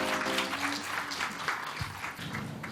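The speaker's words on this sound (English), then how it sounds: "Everybody give a round of applause to all the wonderful costumes one more time." Audience applause for costume contestants at a Removal Day celebration, a steady wash of many hands clapping close by, with faint tonal background sound early on.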